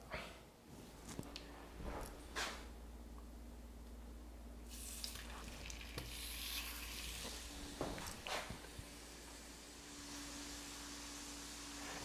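Eggs cooking in a small heated pan beside a smoked prime rib roast, with a steady low sizzle and occasional clinks and scraping from handling nearby.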